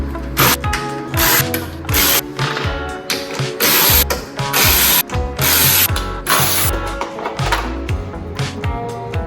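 A hand ratchet works 10mm fan bolts loose on a Mercedes E55 AMG, loud, close, rapid clicking in repeated runs with short pauses between strokes.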